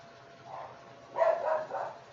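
A dog barks in the background of a room where a physics lesson is being taught, giving a few muffled, moderately loud barks in a short run with no talking over them.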